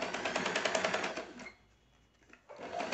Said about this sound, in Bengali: যে দিকে কাঁচা সেলাই দেওয়া আছে সেই দিকে ঘুরিয়ে নিয়ে দেখুন আমি আরেকটা সেলাই দেবো